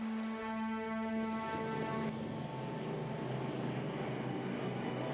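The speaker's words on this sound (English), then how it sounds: "The American B-24s announced their presence on the island." American B-24 bomber engines drone over Iwo Jima, a steady multi-engine hum with sustained tones that shifts partway through into a rougher, continuous roar, with no talking.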